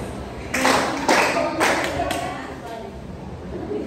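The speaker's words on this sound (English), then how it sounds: "Give 3 claps." A group claps three times in a classroom session, with sharp broadband bursts spaced about half a second apart, followed by a quieter fourth tap and low background murmur.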